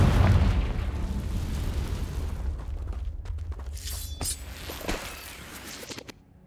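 A Confringo fire spell from Hogwarts Legacy bursts loudly at the start, a heavy crashing blast that rolls off into a long fading rumble with scattered crackles and debris-like ticks trailing behind.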